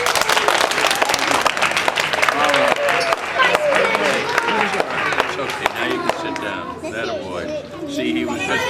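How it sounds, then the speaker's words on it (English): Third graders clap for a dog named Splashy at a school reading, scattered applause mixed with lively children's chatter and crowd noise, fading into talk and giggles toward the end. "nice little round of applause for Splashy"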